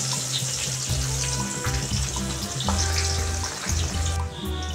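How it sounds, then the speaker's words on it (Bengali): Onions fry in hot oil with cumin seeds, giving a loud, steady sizzle that sits close and runs without a break, with faint stirring scrapes underneath. "পেঁয়াজটা আমার লাল লাল করে আগে ভাজা হোক"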